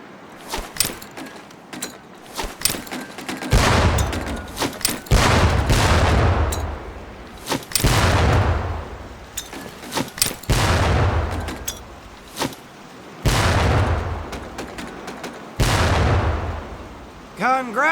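Training grenades exploding in Medal of Honor: Pacific Assault boot camp, a series of loud booming blasts spaced a few seconds apart, each with a rumbling decay, with voices in between.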